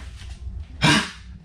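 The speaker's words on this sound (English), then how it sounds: "the vet tech can hear her cough like that" A sick dog at the vet gives one short, harsh, close cough that rises suddenly from quiet room noise and then fades.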